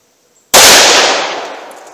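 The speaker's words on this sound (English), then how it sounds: "I'm going to fire single action on my first shot just to get a feel for how much recoil this ammunition has." A single loud, close .357 Magnum revolver shot fired single action, a sharp blast that cuts in abruptly from near silence and rings out in a long, slowly fading decay.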